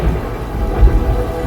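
A thunderstorm with a low thunder rumble and steady rain, heavy and close, rolling through briefly with no voices.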